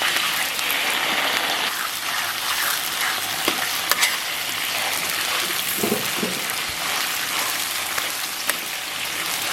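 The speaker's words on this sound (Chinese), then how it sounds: "咱们把提前切好的葱姜蒜给它下里边。 爆香以后啊" Scallion, ginger and garlic hitting hot oil in a wok, a loud crackling sizzle with scraping stirs and occasional clinks of the spatula, close up and continuous without speech.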